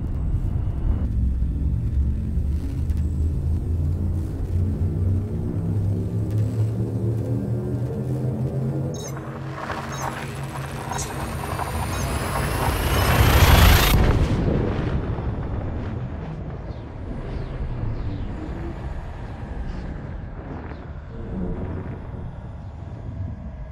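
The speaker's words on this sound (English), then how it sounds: "Frame shift drive charging." Frame shift drive in the space game Elite Dangerous charging and jumping: a loud, steadily rising hum with layered tones climbs to a roaring surge and burst, then settles into a sustained rumbling whoosh.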